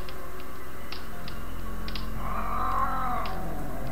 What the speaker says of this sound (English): What the heck is this cat?